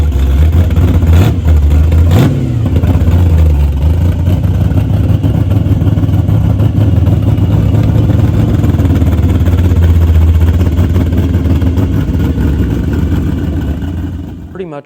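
A Kaiser Henry J hot rod from the early 1950s runs loudly and close at a street rod show, its engine rumbling in a steady low idle with a couple of sharp blips early on.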